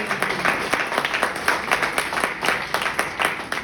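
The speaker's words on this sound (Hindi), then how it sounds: "जोरदार तालियां हंसने वालों के लिए।" Steady applause from an audience, a dense patter of many hands clapping continuously at moderate volume.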